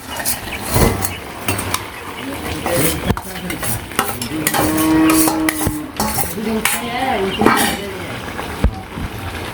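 Small fish dropped into a hot pan in a village kitchen sizzle and fry while a utensil stirs and scrapes against the pan, with metallic clinks throughout and a voice talking nearby.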